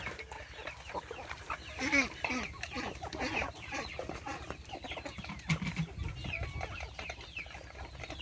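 Chickens cluck repeatedly close by, a busy stream of short clucks and chatter with some low background rumble.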